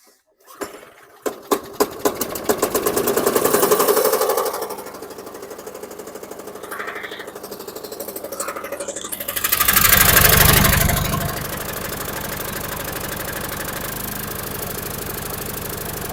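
A 2009 Yard-Man lawn mower by MTD, blade off, is pull-started: a few quick rattling cord tugs, then the small engine catches and roars, dips to a steady rattling idle, surges loudly once and settles.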